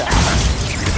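A Bombarda blasting spell goes off in Hogwarts Legacy, a loud, dense explosive roar with crashing debris that fills the whole second without a break.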